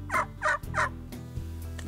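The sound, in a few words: turkey call imitating a gobble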